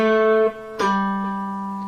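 Cello playing bar 6 of the Prelude from Bach's Cello Suite No. 1, two bowed notes close and clear, the second ringing on and slowly fading.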